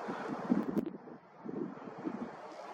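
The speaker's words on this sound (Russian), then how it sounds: "Ветер." Wind blowing across an open outdoor spot at night, a steady low rumble of buffeting against the microphone that swells and dips in gusts, with no voices.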